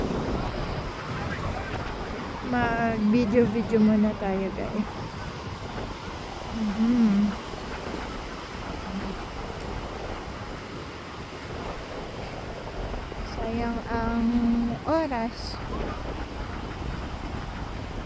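Strong wind gusting across a park while people play baseball, a constant loud rushing and buffeting against the microphone. A voice speaks over it, and small voices or other sounds come through now and then.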